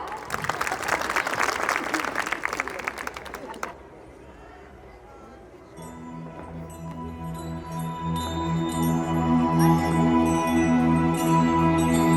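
An audience gives dense, hearty applause at a Vishwakarma Jayanti 2025 celebration after songs. The clapping lasts a few seconds and stops suddenly, leaving a quiet hum that gives way to sustained, swelling musical tones.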